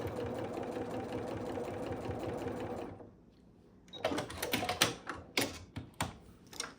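A sewing machine stitches a quilt seam, running as a steady close whir for about three seconds, then pausing before a burst of uneven clacking and thumping as the fabric is handled and the machine restarts.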